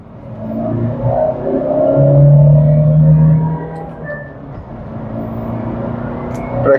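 Two Hyundai Venue SUVs, a new model and an old one, launch in a drag-race speed test; a loud, close engine roar swells and peaks, then eases into a steady rumbling drone.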